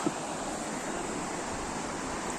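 Overflowing water from Shamirpet Lake rushes in a steady, broad, unbroken roar, with no voices.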